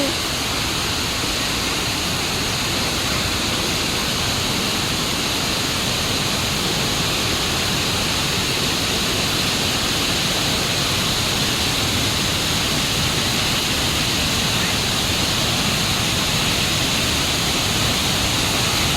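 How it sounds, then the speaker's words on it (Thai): Mae Klang waterfall in Ban Luang, Chom Thong district, Chiang Mai, on Doi Inthanon, gives a steady, dense roar of falling water that holds unchanged and close for the whole stretch, with no voices. "น้ำตกแรกนะครับ น้ำตกแม่กลางครับ"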